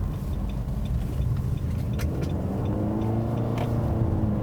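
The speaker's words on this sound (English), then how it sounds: "mostly what you hear is just the annoying engine" A 2017 Nissan Rogue SL with a CVT while driving, a steady low engine drone and road rumble inside the cabin, continuous and moderately loud with no talking.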